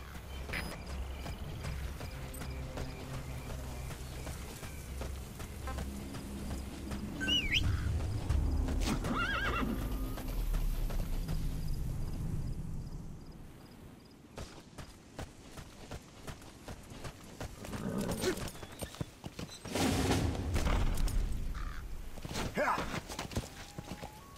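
Horse hooves clip-clop along with a couple of neighs and whinnies, mixed with video game ambience from Metal Gear Solid V: The Phantom Pain and some faint voices over about twenty seconds.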